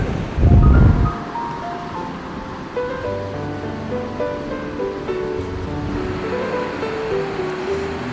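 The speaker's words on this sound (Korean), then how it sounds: "시원하게 쏟아져 내리는 물소리가 얼마나 역동적이고 힘이 넘치는지" Steady, full rushing of water pouring through Bulyeongsa Valley in Uljin, South Korea, dominates throughout, with a loud low burst near the start and some tonal hum layered over the continuous flow.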